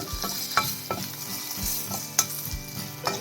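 Hot oil sizzles steadily as asafoetida is added for a tempering for cucumber chutney, while a utensil stirs and scrapes the pan in irregular knocks, close by.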